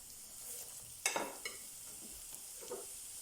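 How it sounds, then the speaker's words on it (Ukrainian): Onion and carrot sizzle quietly in a pan over medium heat, with a few scraping stirs of a utensil partway through; no talking. "Обжарюємо до м'якості цибулі на середньому вогні."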